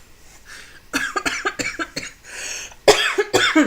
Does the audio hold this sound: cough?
yes